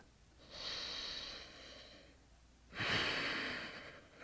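Two slow, deep breaths taken while holding a yoga back-bend posture, each a soft, close airy inhale or exhale, with a quiet gap between them.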